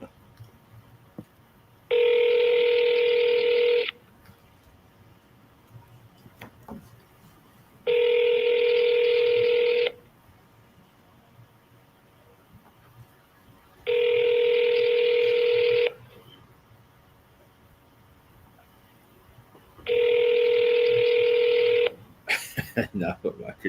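Four long bursts of telephone dialing tones sound at an even pace while a call is placed, separated by quiet gaps, with a short click burst near the end.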